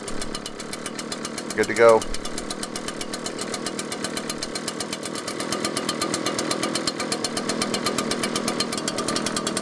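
An ECHO PB-770T backpack blower's two-stroke engine runs loud and close with a rapid, buzzing pulse, rising slightly as it is revved; someone speaks briefly over it.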